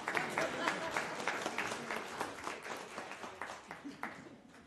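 A church congregation applauds after a choir performance at a service, dense clapping spread across the room that stays steady and then thins out a little toward the end.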